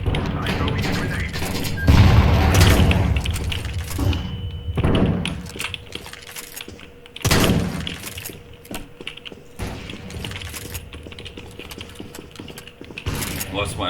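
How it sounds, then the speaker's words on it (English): A grenade is thrown and explodes in Counter-Strike 2, with loud bursts of blast and crackling debris standing out among clicky game mechanics and background noise. "I'm throwing a grenade."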